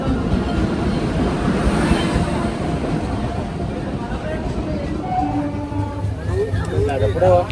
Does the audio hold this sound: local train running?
yes